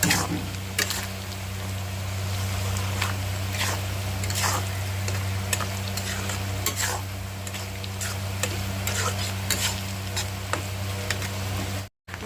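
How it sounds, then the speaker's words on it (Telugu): Salted boiled egg pieces frying in a pan give a continuous sizzle, with repeated spatula scrapes and taps on the pan over a steady low hum, briefly cutting out near the end. "బాగా ఫ్రై అయిపోయిందండి ఎగ్ అనేది"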